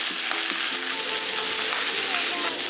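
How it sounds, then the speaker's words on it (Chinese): Shrimp heads stir-fry in hot oil with a loud, continuous sizzle and intermittent stirring scrapes close by, while a voice talks over the cooking. "我们把虾头炒出虾油来"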